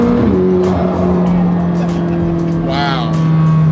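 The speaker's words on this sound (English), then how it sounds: "I feel like the turbo's kicking quicker on this than the 765." A McLaren turbocharged supercar, a rare one-of-three model, accelerates hard with a loud, steady engine drone and a brief rising whine near the end, while people talk over it inside the cabin.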